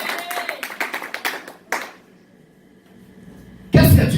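A congregation at a church service claps in a quick burst of overlapping hand claps that stops, then a louder swell of applause and cheering rises near the end.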